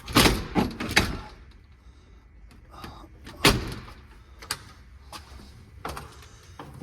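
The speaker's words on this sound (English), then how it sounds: "The front door looks fine. It is working and closing properly." A house's front door opening and closing indoors: a series of sharp latch clicks and thuds, a cluster near the start and another firm knock midway, with quieter handling noises between.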